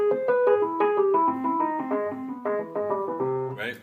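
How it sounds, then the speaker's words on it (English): Descending lick on the augmented scale, built from triads arpeggiated in root position, played as quick, clear, evenly paced notes stepping downward, close and alone without talk. "So I was just arpeggiating triads in root position"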